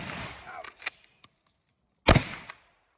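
A Mossberg 500 or Sears & Roebuck Model 66 shotgun fires a 3-inch buckshot shell outdoors, one sharp loud blast after some clicks and handling noise, followed by a brief echo.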